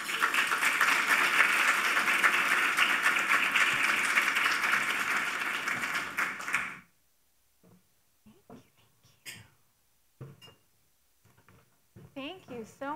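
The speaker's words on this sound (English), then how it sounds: "I would love to hear you all to give me a round of applause to welcome Joanna" A large audience applauds warmly to welcome a woman named Joanna onto a stage, a dense, steady clapping wash that lasts several seconds and then cuts off, followed by a few soft voices and scattered small noises.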